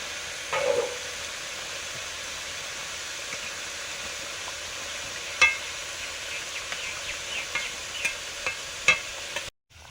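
Steady hissing sizzle of frying in hot oil, with occasional sharp crackles and pops rising above the constant fry noise.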